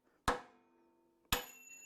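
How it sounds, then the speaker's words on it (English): Two sharp, ringing hammer blows on a punch, spaced about a second apart, marking soft rivet material on a 1949 Ford F5 Coleman 4x4 so a drill bit can center; each strike leaves a metallic ring that decays. "I give it some good deep strikes in order to have a place for the drill bit to center into"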